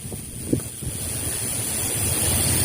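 Outdoor wind before rain blows as a low, steady rushing buffet, with one brief knock near the start and the gusting growing slightly stronger toward the end.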